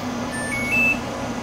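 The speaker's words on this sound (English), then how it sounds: "you get a little bit of an audible alarm there on the smoker" A Traeger Timberline 850 pellet smoker gives a few short, thin electronic beeps at moderate level over a steady background hum.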